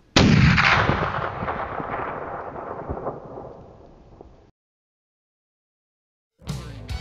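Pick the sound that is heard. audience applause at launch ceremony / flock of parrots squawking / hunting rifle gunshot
hunting rifle gunshot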